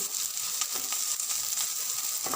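Green chillies fry with translucent onions in a pan for an arbi (taro root) curry, giving a steady, close, crackling sizzle with faint stirring and no voices.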